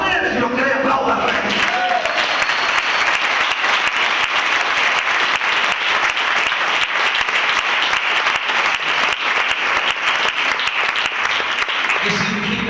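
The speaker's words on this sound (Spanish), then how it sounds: "Amén, si lo cree, aplauda." A church congregation breaks into loud, sustained applause that carries on steadily through the whole stretch, with voices mixed into the clapping.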